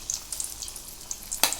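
Potato french fries frying in hot oil, a steady close sizzle with small crackles and a sharper burst of spatter near the end, no voices.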